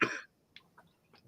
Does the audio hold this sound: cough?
yes